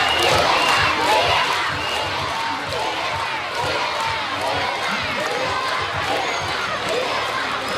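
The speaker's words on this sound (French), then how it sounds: "Une foule compacte de jeunes écoliers dressés aux abords de la voie pour scander le nom d'Ibeka" A dense crowd of young schoolchildren lining a roadside in Bamako, chanting a name in a loud, continuous roar of massed voices that holds steady throughout.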